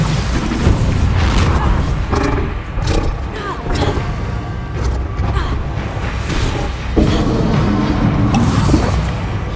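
A Bombarda blast spell from the Hogwarts Legacy video game booms repeatedly amid dense, continuous combat noise, with rumbling impacts and creaking mechanisms, and character voices mixed in throughout.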